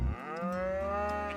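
Cows moo in a farm setting in the medieval city-building game Lords and Villeins, with one long, low, drawn-out moo after a brief grunt, clear and fairly close with no talk.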